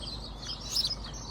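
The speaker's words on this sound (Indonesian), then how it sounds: "Kayak pohon-pohon ini ya, itu banyak banget burung, guys." Many wild birds chirp in the trees of a small English village, a steady chorus of overlapping tweets at moderate distance with no voices.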